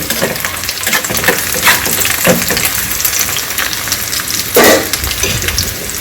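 Red chillies sautéing in a pan for South Indian kaara chutney give a steady, close sizzle with scraping stir strokes and a louder hiss burst near the end, no voices.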